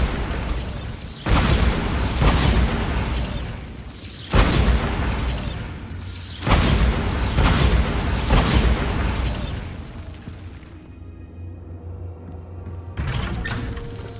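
Bombarda blasting spell in the video game Hogwarts Legacy, a series of heavy booming explosions that roll in roughly every two seconds, each leaving a rumbling tail before a quieter stretch near the end.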